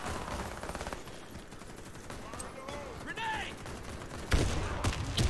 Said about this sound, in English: I heard gunshots coming from in here for sure